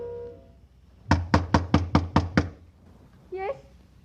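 Seven sharp, evenly spaced knocks on a door in a radio drama, loud and close, followed by a brief voice.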